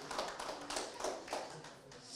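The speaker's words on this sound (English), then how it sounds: "please give him a round of applause, people" An audience claps in applause for contestant chef Hassan at a Leicester cook-off, a quiet, steady patter of hands lasting a couple of seconds.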